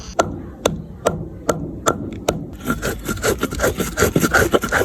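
Soaked ingredients for a meat dish are ground by hand on a stone, first as sharp separate knocks, then as a quicker rough rubbing scrape that grows busier and louder toward the end.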